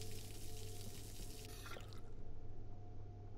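A tap runs at home in a steady wash of falling water, the flow changing character midway and continuing as a quieter, smoother stream; no one speaks.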